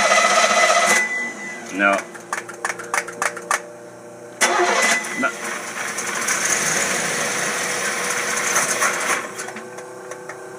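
An engine fitted with an Edelbrock carburetor cranks and tries to start, giving a loud mechanical churning with bursts and stutters that settles into a steady rough running drone, with a voice briefly speaking over it.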